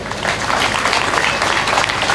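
Audience at a Tamil debate stage event during a temple consecration festival breaking into loud, dense applause, a close, continuous wash of clapping filling the whole moment.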